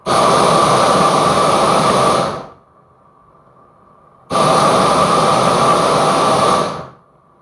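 Two long bursts of a loud, roaring propane weed burner flame, each lasting a couple of seconds, separated by a quieter pause with a faint hiss of the pilot flame.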